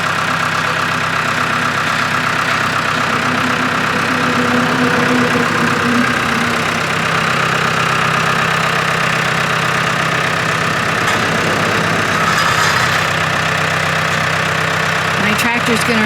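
A tractor engine idles and chugs steadily nearby for a long stretch, a low rumbling drone with a brief clatter near the end.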